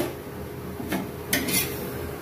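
A plate is taken out in a home kitchen during dinner preparation, giving two brief, faint clinks of crockery about half a second apart against a quiet background.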